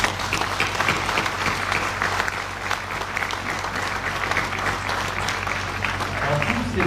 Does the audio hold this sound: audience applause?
yes